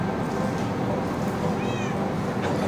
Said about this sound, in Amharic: የምን ድመት ነው የሚጮህብኝ ዛሬ?